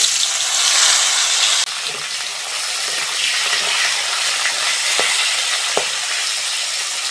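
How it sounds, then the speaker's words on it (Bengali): Bitter gourd slices frying in hot oil for a Bengali fish curry, with a loud, dense, steady sizzle up close and a couple of faint utensil taps near the end. "ওই তেলের মধ্যে করলাগুলোও ভেজে নেব।"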